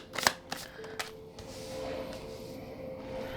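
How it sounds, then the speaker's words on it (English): A deck of tarot cards being shuffled by hand: a few sharp riffling snaps at the start, then a steady soft papery rustle that continues to the end, close and fairly quiet, with no talking. "I've shuffled all of these before, but I like to do it on camera."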